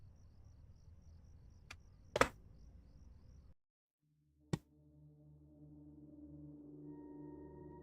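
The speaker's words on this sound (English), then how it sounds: "Please adjust your volume until you can hear the crickets on the screen." Crickets chirp in the video game Five Nights at Freddy's 4, a faint steady high-pitched trill that cuts out briefly, punctuated by two sharp clicks before a low droning hum builds.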